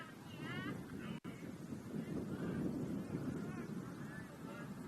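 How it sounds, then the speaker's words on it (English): Steady wind buffeting the microphone at a high school baseball game, a low rumbling roar throughout, a faint voice underneath and a momentary dropout. "And as you can tell, it is windy."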